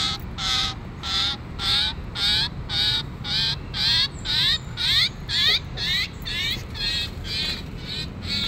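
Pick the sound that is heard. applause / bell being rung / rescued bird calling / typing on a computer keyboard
rescued bird calling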